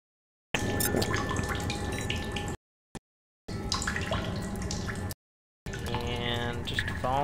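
Drinkable water dripping and trickling in a temple in the video game The Solus Project, heard in several bursts of wet splashing and pattering broken by short silent gaps, fairly close.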